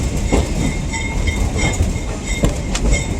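A Northern Central Railway passenger train crossing a bridge near Seven Valleys, Pennsylvania, with loud, close rumbling wheels, clickety-clack rail joints and faint metallic squeals, no voices.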